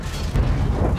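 A deep, rumbling tank cannon boom from World of Tanks, fired by a Centurion AX, rolls through the whole moment, low and heavy with no talking.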